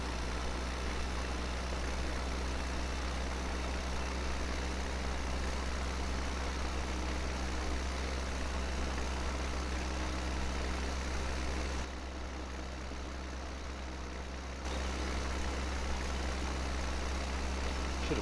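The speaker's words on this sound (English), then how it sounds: "Should have probably put one of my more heftier tractors on this job, but that's okay." A tractor engine runs in the Farming Simulator 17 video game on a British farm, a steady low idling drone with a constant hiss, continuous and unchanging apart from a brief dip in level.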